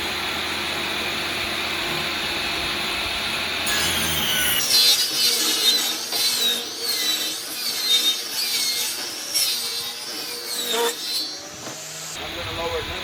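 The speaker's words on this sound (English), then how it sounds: "cut off the more messy edge" Saw trimming the messy edge off a rough-cut lumber board for sauna wall panels, a motor running steadily, then a loud rough cutting whine with shifting pitch as the blade passes through the wood, ending as the cut finishes.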